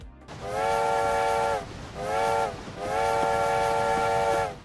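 Steam-style train whistle from a PC train-driving game sounds in three long, loud, sustained blasts separated by short pauses, over a steady rumbling background.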